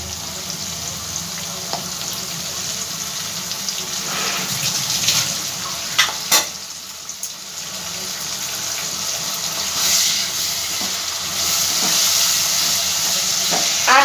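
Ginger-garlic paste sizzles in hot oil in a home kitchen with a steady, close hiss. A few sharp clinks and knocks come and go over it.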